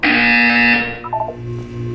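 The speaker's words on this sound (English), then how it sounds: "You will hear a buzzer." A loud electronic buzzer from the Portal 2 video game sounds steadily for about three quarters of a second, then gives way to a few short chirping tones and a lower hum.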